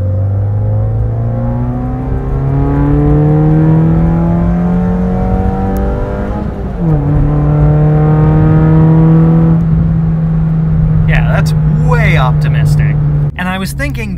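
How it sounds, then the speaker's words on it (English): A car pulls hard through second gear, its engine note climbing steadily in pitch, with a brief dip at a shift before rising again; loud and close, running alone with no talk. "Let's do a second gear pull."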